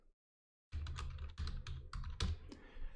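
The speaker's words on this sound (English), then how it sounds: "type in your IP address" Fingers tap out an IP address on a computer keyboard in quick, close bursts of clicky keystrokes after a short silence, with no voice.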